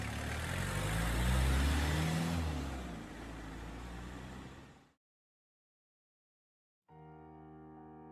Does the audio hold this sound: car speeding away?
yes